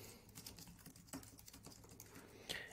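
Computer keyboard typing while a landing page name is entered in a tracker, a short sequence of soft, quick key clicks with a few sharper taps, close and quiet.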